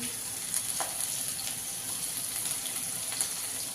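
Garlic, ginger and green chili sizzling in hot oil in a pan for Manchow soup, a steady close frying hiss with faint stirring clicks throughout, no talking.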